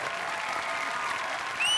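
A studio audience applauds on a Marathi comedy show set, giving a dense, steady wash of many hands clapping that holds evenly all the way through, with a brief tonal sound near the end.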